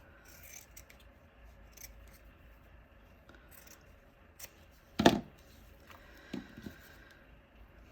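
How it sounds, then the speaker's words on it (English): Scissors snip out a felt embroidery piece for a Halloween street sign craft, with soft, close, irregular cutting sounds and a sharper snip partway through, with no talking. "This might take a little bit, so I'm just gonna cut this out."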